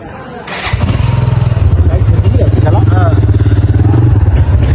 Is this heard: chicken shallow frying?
no